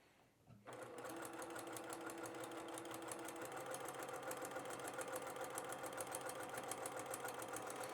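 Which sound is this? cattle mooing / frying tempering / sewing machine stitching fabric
sewing machine stitching fabric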